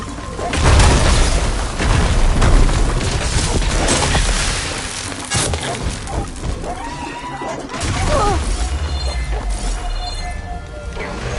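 Fireworks go off in the video game Horizon Forbidden West as a barrage of loud booms, cracks and crashing bursts, with heavier blasts early and lighter crackling pops later amid other game sound.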